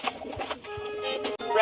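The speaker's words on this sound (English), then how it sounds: "Our pigeons are hungry." Cartoon pigeons coo softly in a few short, gentle calls, close and alone.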